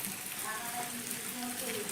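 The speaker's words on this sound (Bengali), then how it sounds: "এবার একটু নাড়াচাড়া করে ডিমের ভুজিয়াটা রেডি করে নেব" Egg bhujia with onion and capsicum stirred in a pan, frying with a steady soft sizzle and faint scraping for the full stretch, fairly close.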